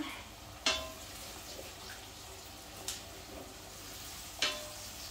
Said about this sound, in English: So just gonna fry the onion.